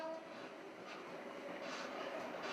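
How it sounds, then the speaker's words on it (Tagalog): A PNR train rocking and rumbling as it moves, a steady faint rattling roar with no break. "Umuuga kasi ang tren."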